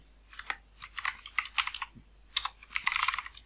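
Rapid, fairly quiet clicking of a computer keyboard as code is typed, uneven bursts of keystrokes with brief pauses, close by and without speech.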